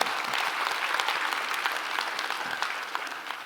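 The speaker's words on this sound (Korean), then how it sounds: "우리 박수 한번 하십시다." A church congregation breaks into sustained, even applause during a Sunday sermon, many hands clapping together at a steady level with no voices over it.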